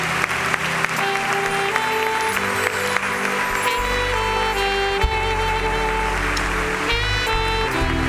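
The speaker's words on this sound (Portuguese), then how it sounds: "Vamos dar uma salva de palmas para o Senhor." A Pentecostal church congregation claps in praise, a steady wash of applause carried over sustained music with a low bass tone, busy and continuous throughout.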